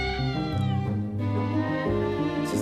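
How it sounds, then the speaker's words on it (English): A cat meows repeatedly in a cold, dim, rain-dampened alley, with drawn-out, wavering yowls that run close and loud with almost no gaps between them. "It's just a cat, man."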